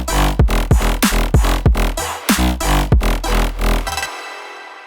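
A wonky, melodic synth bass built in Serum 2 plays a drop section, with loud, punchy bass notes in a bouncy rhythm that sink in pitch as they fade, then a short sustained tail.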